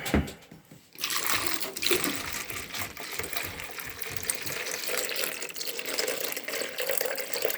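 Water pours and splashes steadily through a squeeze filter into a 2-liter bottle after a brief quiet start, a continuous close gurgling stream with no talking.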